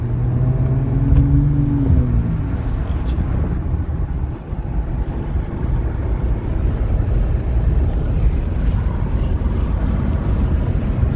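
A 2017 Honda Civic, fresh from a CVT transmission fluid change, rolls along and makes a right-hand turn. Steady, quiet road and wind rumble runs throughout with no talking.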